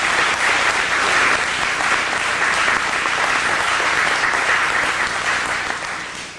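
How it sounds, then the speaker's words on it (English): Loud, dense applause from a lecture hall audience fills the whole span as a steady wash of many hands, tapering only in the final second. "Give him a round of applause."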